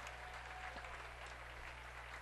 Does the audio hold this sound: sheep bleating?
no